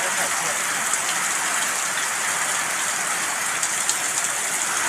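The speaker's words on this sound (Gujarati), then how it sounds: "ત્યાં આમ જો વરસાદ પડે છે" Rain falls steadily on metal roof sheets in a village, producing a dense, even hiss with faint patters that continues without a break.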